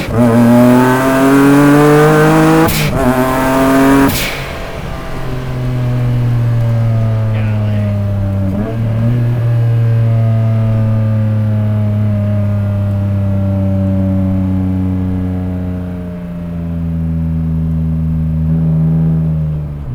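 A 600HP single turbo Nissan 350z engine pulls hard through the revs with a loud, close roar, breaking off sharply at two gear shifts and then droning on in a long sustained pull, with a voice briefly heard.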